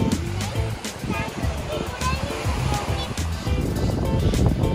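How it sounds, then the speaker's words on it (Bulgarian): Waves break and wash along the Black Sea shore at Chernomorets, a continuous loud roar of surf and wind, with people talking over it. "Аз чакам най-големите вълни."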